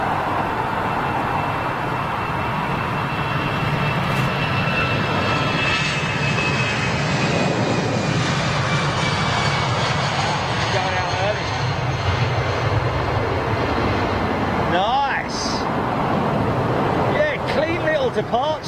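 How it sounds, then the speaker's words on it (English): A Eurowings Airbus A320 departs London Heathrow with a loud, sustained jet roar that holds steady throughout, with faint voices mixed in near the end. "first departure of the day is only a little tiddler, and it's a Eurowings 320"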